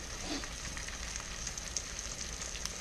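Eggs fry in a stainless steel pan with a steady, close sizzle and fine crackling pops, continuous and evenly loud throughout.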